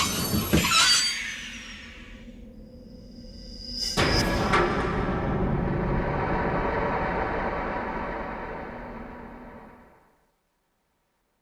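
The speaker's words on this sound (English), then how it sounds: "was herded onto a train heading for Germany" A train carrying prisoners toward Germany rumbles steadily along the rails, with a sharp high screech near the start and a sustained broadband roll and clatter that fades out abruptly near the end.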